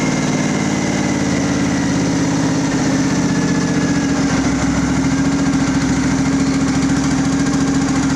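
A Craftsman riding mower's small engine idling just after the choke is eased off, a loud, steady, close chugging drone that holds even throughout without pauses.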